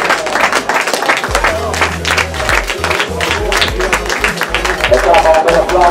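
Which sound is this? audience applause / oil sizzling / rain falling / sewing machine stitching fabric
audience applause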